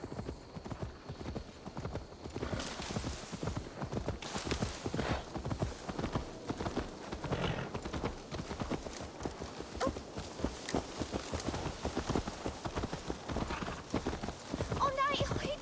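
Horse hooves clip-clop steadily and close in the Assassin's Creed Valhalla video game, a continuous rhythmic trotting that runs throughout over soft ambient background.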